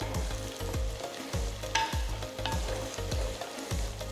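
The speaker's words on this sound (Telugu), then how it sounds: "తర్వాత చీల్చిన 3 పచ్చిమిరపకాయలు, కొన్ని కరివేపాకులు కూడా వేసి కలుపుతున్నాను" Split green chillies and curry leaves sizzle and crackle in hot oil while being stirred, with steady frying hiss and repeated scraping strokes of a spoon against the pan, close and continuous.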